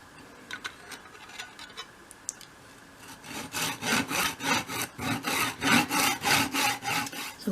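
A small piece of wood for a 1/12 scale miniature collection box is cut with a hand saw: after a few light taps, steady rhythmic back-and-forth rasping strokes begin close by and continue evenly.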